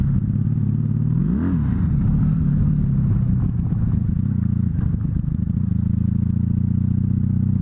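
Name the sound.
Honda Magna bobber motorcycle riding, attempted drift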